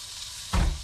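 Chicken drops into a hot pan and bursts into a loud, close sizzle that cuts through a steady background hiss, with the sizzle lasting under half a second.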